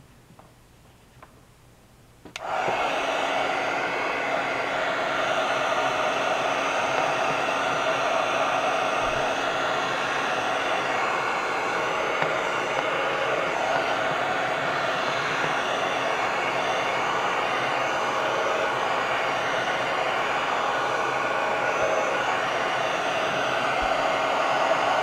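A hair dryer drying a page of a travelers notebook journal starts abruptly after a brief quiet moment, then blows as a steady, close, loud whoosh that runs unbroken to the end.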